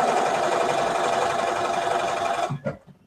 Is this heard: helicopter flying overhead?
no